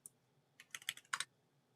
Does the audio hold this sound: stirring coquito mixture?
no